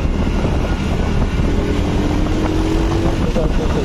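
A Honda CD70 motorcycle ridden through city traffic gives a loud, steady engine drone with road and wind noise, and a faint tonal whine rises briefly near the middle.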